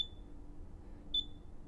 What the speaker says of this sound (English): it's beeping away at us